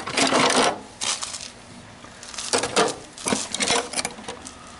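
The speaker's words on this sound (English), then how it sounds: "Some clamp pieces, hold down." Metal machinist clamp hold-down pieces from a tool box clink and rattle as they are handled, in several short bursts of jangling clatter with brief pauses between.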